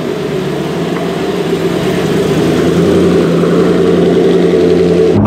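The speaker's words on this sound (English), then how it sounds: "That startup sound is very loud." A Zenvo TSR-S supercar engine runs loud and close, a steady, heavy idle with a deep rumbling drone that holds throughout, with no speech.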